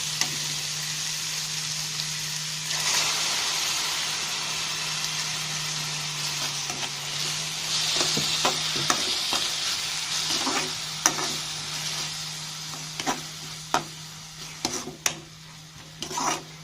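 Tomatoes fry and sizzle in a pan of salna gravy, with a continuous sizzle, a low steady hum underneath and several sharp clinks and scrapes of stirring toward the end.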